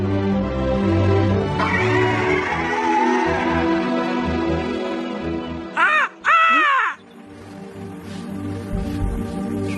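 A cartoon raven gives loud, close caws, a pair of harsh rising-and-falling cries in quick succession, set against a sustained tonal music bed and followed by a short quieter stretch.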